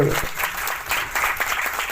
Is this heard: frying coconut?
no